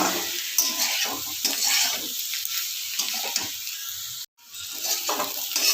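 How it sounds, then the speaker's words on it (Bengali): Onion stalk curry being stirred in a pan with coriander powder and spices, a loud close sizzle with repeated scraping stirs, a brief total cutout before the frying resumes, no voices. "দিয়ে ভালো করে মশলার সঙ্গে এবার মাখিয়ে ভালো করে মিশিয়ে নিচ্ছি।"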